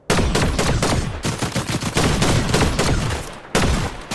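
Rapid bursts of video game gunfire crackle in quick succession, loud and close, with a brief pause near the end before another volley resumes.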